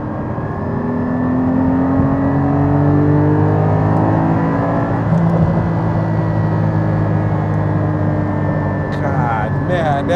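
A powerful Porsche 718 Cayman GT4 engine roars steadily while accelerating, its pitch climbing and holding loud and close for the full stretch, with a whirring drone underneath.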